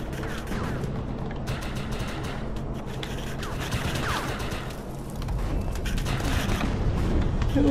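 Gunfire in the video game Defiance, a dense, continuous fusillade of shots and mechanical clatter that swells louder toward the end, with no talking over it.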